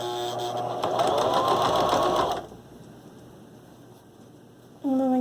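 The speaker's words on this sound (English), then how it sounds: "you can just do a straight stitch, you don't need to back stitch because we'll be putting these ties on the mask" A sewing machine runs a straight stitch along fabric face-mask ties: a steady, close whirring burst for a little over two seconds, then quieter running until the motor starts up again at the very end.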